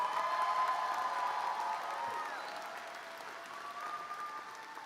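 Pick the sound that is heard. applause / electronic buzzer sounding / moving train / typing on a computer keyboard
applause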